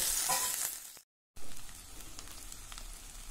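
Karimeen (pearl spot fish) cooks in coconut milk in a pan, giving a soft, steady sizzle and bubbling hiss that briefly cuts out to silence before resuming.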